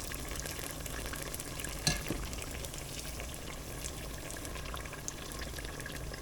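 Panzerotti fry in hot oil with a steady, even sizzle and fine bubbling crackle, close and moderately quiet, with one brief clink near the start and no talking.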